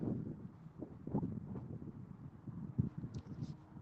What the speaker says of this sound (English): It is a little bit breezy though.